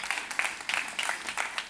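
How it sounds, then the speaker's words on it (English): Brief applause from a conference audience at the Plan ₿ Forum 2024 in Lugano, a moderate, uneven patter of clapping in short surging waves, heard alone without speech. "definitely a round of applause for them"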